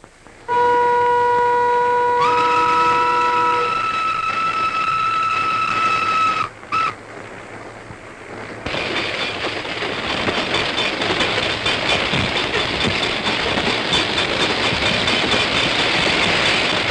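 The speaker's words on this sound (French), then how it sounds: "Le rapide a pris sa vitesse." An express train rolls along the track, with steady tonal horn-like whistles held for several seconds before a brief gap, followed by a loud broadband rumble and rattle as it runs at speed, close and alone without talk.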